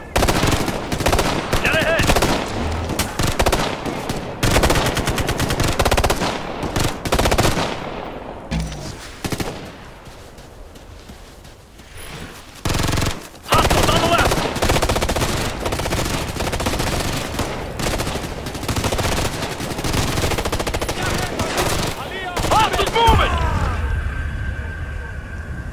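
Heavy bursts of machine gun fire rattle through a Ghost Recon firefight, with long sustained volleys, short pauses, scattered single shots and booms, and voices calling out over the shooting.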